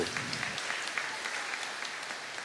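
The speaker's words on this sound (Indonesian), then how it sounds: "Tepuk tangan dulu buat Ibu" A room full of people at a charismatic Pentecost Mass claps steadily for a couple of seconds, moderately loud and even, with no talk over it.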